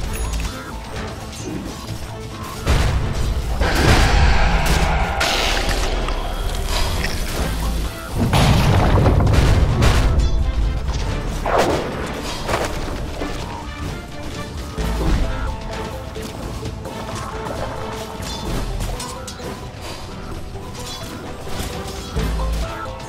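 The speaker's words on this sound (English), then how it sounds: "Tower has fallen." Dota 2 tower under attack and collapsing in a match, heard as heavy booming crashes and grinding mechanical clatter, loud and dense, with a big impact near the start and another burst midway, then a rumbling, clanking tail.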